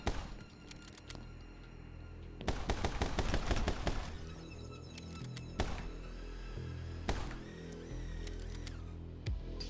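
Rapid bursts of gunfire from the video game My Friend Pedro crack out in quick clustered volleys over a steady game backdrop, with scattered single shots before and after a dense flurry.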